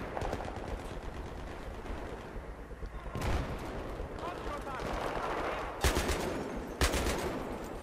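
Battlefield 3 gunfire in a co-op match, with dense rapid shots, sharp loud bursts and explosive bangs over a constant battle din while players talk.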